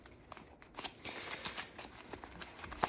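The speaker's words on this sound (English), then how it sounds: "I'm going to shuffle them up real quick here." Soft, crisp riffling and flicking of paper flashcards being shuffled, repeated in quick bursts, close by and fairly quiet.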